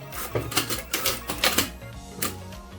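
A sewing machine runs in short bursts while stitching a one-centimetre seam on a flared skirt, backstitching back and forth, with brief mechanical clattering runs separated by pauses, close and moderately loud.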